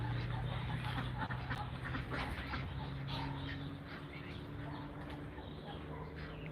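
Muscovy drakes give soft, low huffing and murmuring calls outdoors in a yard. The sounds are quiet and scattered over several seconds, with faint background noise.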